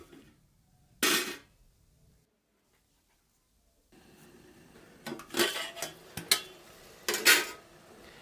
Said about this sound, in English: We're going to proceed by gently stirring